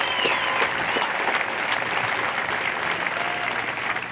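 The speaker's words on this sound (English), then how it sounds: "One more round of applause for all the students" A seated audience applauds the graduating students at a Nuclear Power School class graduation ceremony. Sustained, even clapping fills the room, with a few sharper individual claps standing out, continuing steadily throughout.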